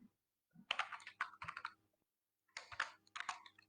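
Keyboard typing while entering CSS code for a web design lesson, two quick bursts of clicky keystrokes separated by a pause, close and moderately quiet.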